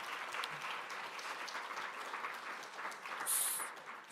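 Steady applause from a seated conference audience at a stomach cancer summit in Los Angeles, a dense even clatter of many hands clapping throughout, moderately loud with no speech over it.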